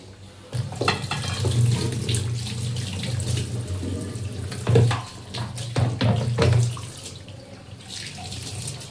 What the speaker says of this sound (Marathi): आता हा आपण थोडा वॉश करून घेऊ, धुवून घेऊ